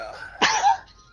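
A single short, sharp sneeze bursts out close to the microphone during a tabletop role-playing session, over quiet background.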